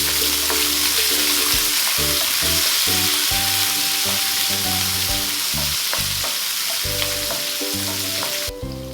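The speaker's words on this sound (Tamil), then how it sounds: "இது எல்லாத்தையும் லைட்டா நெய்யில் வதக்கிக்கணும்." Curry leaves, cashews, chilli and ginger sauté in hot ghee with a dense, continuous sizzle that stays loud and close throughout, while steady background music plays over it.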